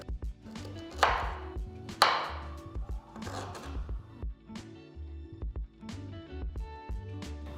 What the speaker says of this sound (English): So I've just peeled off the skin and I'm cutting into small pieces.